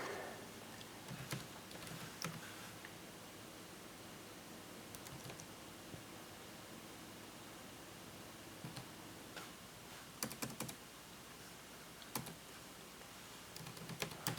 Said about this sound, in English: I'm just going to type the site name